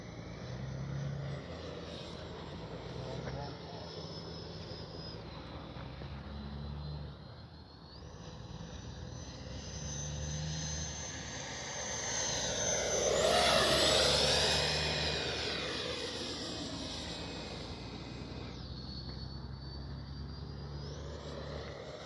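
A Freewing A-4 Skyhawk 80mm electric ducted-fan RC jet flies past, its whine swelling to a loud peak as it passes close, then fading away under steady background noise.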